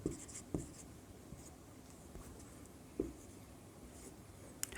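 Pen or chalk marks numbers on a board during a maths lesson, giving a few faint, scattered taps and short scratches spread over a few seconds in a quiet room, with no voice.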